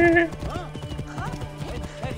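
A horse in Assassin's Creed Origins clip-clops with steady hoofbeats and snorts, opening with a short whinny, close and moderately loud.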